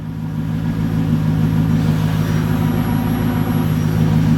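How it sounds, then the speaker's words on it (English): A fuel pump in a Mercedes C55 AMG gives off a steady, low whir, constant and fairly loud throughout, with no speech. "Pump sounds okay back here, nice and steady whir."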